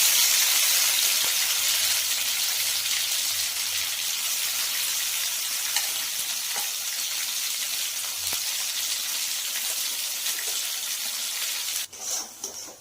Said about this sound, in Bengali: এবার বেটে রাখা লাউ পাতাগুলো দিয়ে দেওয়া হচ্ছে।